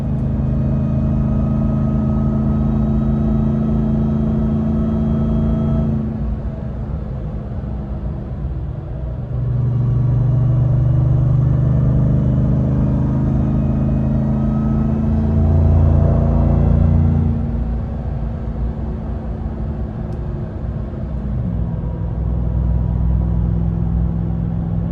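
A supercharged work truck engine runs steadily with a deep, loud rumble and supercharger whine. Its pitch and level shift a few times as the engine revs up and settles again.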